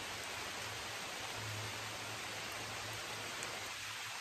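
Rain falls steadily in the woods, a soft, even hiss of drops on leaves that stays constant and faint throughout.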